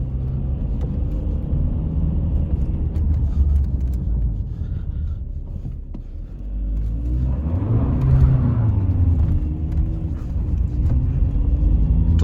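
A Volkswagen Passat climbs a steep neighbourhood street at night, its engine rumbling and whirring under load, then rising in a revving surge partway through before settling back into a strained drone.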